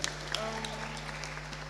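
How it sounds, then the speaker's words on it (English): A school audience claps for the head girl: a short burst of applause under a steady electrical hum, with a voice breaking through briefly over the clapping. "Give the head girl a round of applause"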